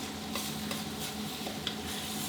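Spicy catfish stir-fries in a pan over medium-high heat, a steady soft sizzle with occasional faint scrapes of a utensil, fairly quiet and continuous.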